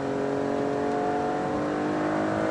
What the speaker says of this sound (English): You downshift in the corner, give it throttle